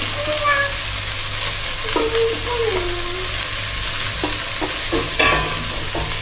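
Curry being stirred in a pan with a spoon, a steady sizzle under a run of scraping strokes and a few clinks, close and fairly loud, with no talk.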